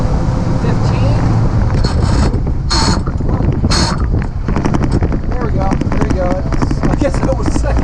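A Dodge M-37 Power Wagon lugs and strains as it pulls off in second gear, its engine rumbling with mechanical clatter and a few sharp grinding bursts, under wind noise and someone talking.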